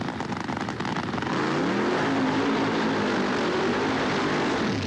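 Two nitro drag racers, a Buick Reatta-bodied car and an Oldsmobile, doing a 4,000-horsepower burnout on huge tires spun through water: a loud, sustained engine roar mixed with a broad hiss that holds steady throughout.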